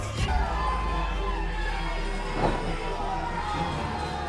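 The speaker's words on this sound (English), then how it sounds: "This crowd erupting." A pro wrestling crowd at a no-DQ match cheers and roars throughout, with a brief louder surge partway through and a steady din of shouting around it.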